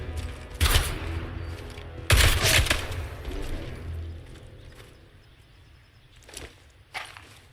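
Bursts of gunfire in the video game Atomfall, with a short volley near the start and a heavier loud burst a moment later, then fainter scattered shots trailing off over a low background rumble.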